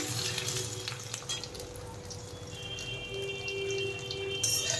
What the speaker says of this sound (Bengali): বেগুনটা একটু ভেজে নিই